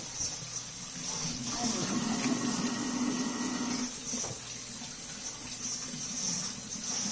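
Water runs from a tap in a steady rushing stream, with a voice speaking briefly over it.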